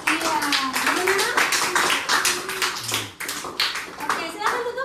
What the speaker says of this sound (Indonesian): Tepuk tangan dong untuk teman kalian semuanya.